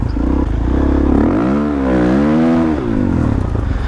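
Dual-sport motorcycle on slick tires riding off-road, engine loud and close, revving up and down in smooth rising and falling sweeps with a brief clatter.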